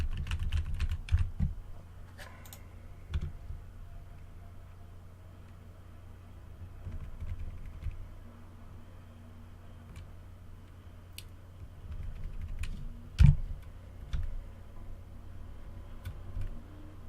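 Computer keyboard typing on a PC, in scattered bursts of clicky keystrokes with a sharp louder tap near the end, close and alone against quiet room noise.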